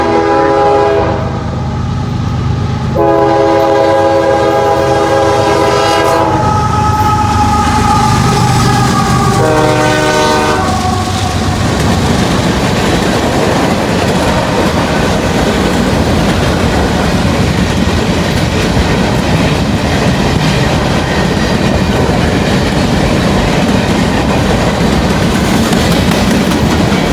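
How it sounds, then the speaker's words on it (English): A Norfolk Southern gondola train led by two Union Pacific locomotives sounds its horn in several long blasts, then rolls past loudly with a steady rumble and clatter of wagons that continues to the end. "Norfolk Southern gondola train with 2 UPs on the front"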